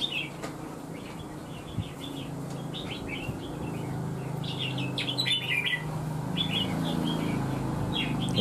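A red-whiskered bulbul (chào mào lân), a young bird that is moulting, chirps in short, bright bursts again and again over a low, steady background rumble.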